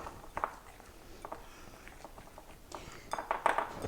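A utensil stirs seasoned flour in a bowl for beef stew, light scraping taps and clinks of metal on the dish, irregular and close, growing busier near the end, with a voice talking alongside.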